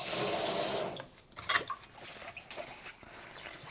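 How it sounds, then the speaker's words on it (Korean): Water sprayed from a tap over dishes in a kitchen sink at an Airbnb in Haeundae, Busan: a loud rushing gush for about a second, followed by quieter splashes and light clinks of dishware. "물을 먼저 뿌려요."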